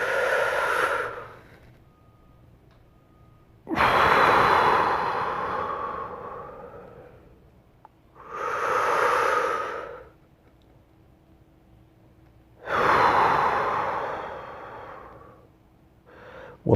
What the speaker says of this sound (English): let's pause and take a couple slow, deep breaths in and out